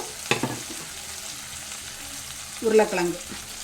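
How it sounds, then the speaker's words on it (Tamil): Potato pieces frying in oil for a tamarind-free kuzhambu, a soft steady sizzle with a couple of brief stirring scrapes, faint and close with no talking. "உருளைக்கிழங்கு அது கூட சேர்த்து இந்த எண்ணெயிலே கொஞ்சம் வேக விடணும்"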